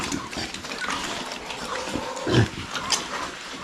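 Large White pigs on a farm grunting and snuffling, a close cluster of overlapping low grunts and short squeals, fairly loud, with no clear talk.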